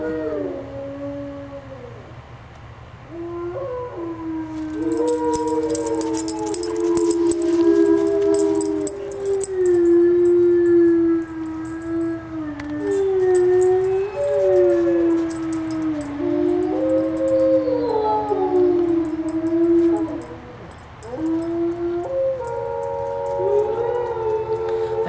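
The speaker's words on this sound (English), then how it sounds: "The wolves howl." Wolves in a snowy enclosure howl together in long, gliding, overlapping tones that rise and fall, sustained for the whole stretch with a high chorus joining midway and no talking.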